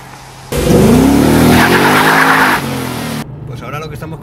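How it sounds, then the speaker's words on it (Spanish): A Ford Mustang with a 5.0-litre V8 skids, its tires squealing in a loud, sustained, rising screech over engine roar for about two seconds, then easing off as the car drives on. "ahora lo que estamos conduciendo es el Ford Mustang, el V8 de 500 centímetros cúbicos, el del motor potente"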